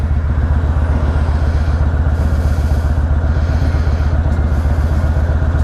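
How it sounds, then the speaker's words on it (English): A Can-Am roadster rumbles steadily nearby as it drives past, its engine droning with a low, rough idle-like tone throughout, loud and continuous with faint clatter. "It's like a stripped-down Can-Am thing."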